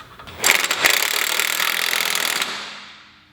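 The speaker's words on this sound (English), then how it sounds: "remove this factory sector shaft nut with a 1 5/16 socket" An impact wrench with a 1 5/16 socket hammers off a factory sector shaft nut, giving a loud, close, rattling burst of about two seconds that tapers away as the tool stops.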